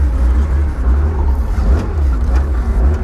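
A car engine held at throttle rumbles deep and steady through its exhaust, close and loud, with a slight rise and fall in the revs.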